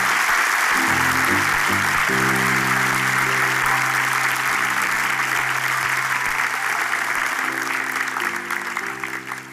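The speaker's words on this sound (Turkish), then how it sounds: "Alkış." Loud, sustained applause from an audience at a Turkish comedy show, steady broadband clapping running the full length with a low musical tone underneath and fading slightly at the end.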